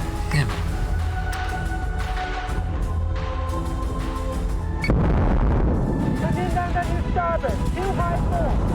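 Spaceship munitions fire in Battlestar Galactica Deadlock, repeated booming shots and blasts over a rumbling battle backdrop, dense and continuous, with a heavier volley partway through.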